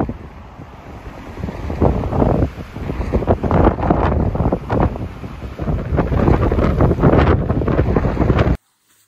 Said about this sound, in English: So we'll let this little windstorm pass by.